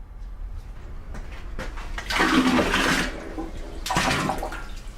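Water splashes and gurgles as a salt water and formic acid pickle bath for tanning crocodile skin is stirred and poured, with two louder surging bursts over a steady background.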